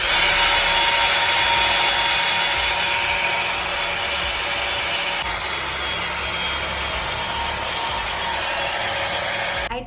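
A budget Dyson Airwrap dupe hair styler blows air on its lowest setting, a loud, steady, close whooshing hum with a faint whine that runs unbroken throughout and cuts off at the very end.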